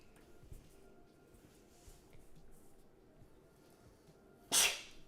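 A single sharp sneeze bursts out near the end, loud and close, after quiet room tone with faint background movement.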